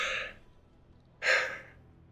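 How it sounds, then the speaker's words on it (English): A person yawns twice, a short breathy exhale followed about a second later by a louder, longer drawn-out yawn, close and alone. "Pardon my yawns."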